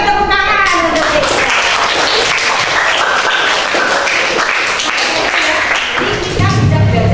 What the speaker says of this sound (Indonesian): tepuk tangan untuk Riko